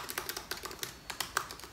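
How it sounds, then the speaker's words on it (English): Rapid, uneven key clacks from the keyboard of a 2017 MacBook Pro, loud and close, with about a dozen sharp taps in under two seconds and no voices. "the old ones, they tend to be very obnoxious when you're typing."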